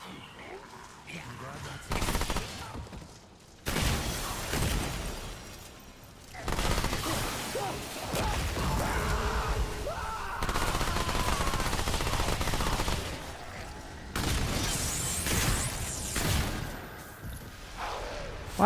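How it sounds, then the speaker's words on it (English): Bursts of SMG gunfire in the video game Remnant 2, loud rapid volleys in several separated stretches with game effects between them and talk in places. "this SMG is kind of hitting hard right now"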